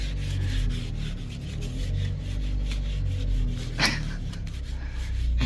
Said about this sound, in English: Scraping ice off the inside